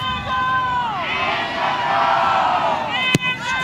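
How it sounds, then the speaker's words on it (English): Spectators at a Northern Super League women's soccer match between Montréal Roses FC and AFC Toronto raise a swelling rally cry, a dense roar of cheering and whoops under sustained crowd noise, with a sharp thump near the end. "Rally cry from the crowd."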